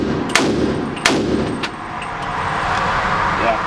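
An F1 Firearms 300 Blackout rifle fitted with an optic fires three sharp shots about a second apart, close and loud over an outdoor background rumble.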